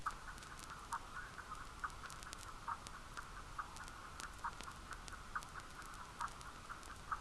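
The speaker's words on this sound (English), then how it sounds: "So it's basically just like a vinyl-y," A subtle, pitched vinyl-like texture with most of its range filtered away by EQ, crackling faintly under a soft, evenly spaced rhythmic ticking that continues at low volume throughout.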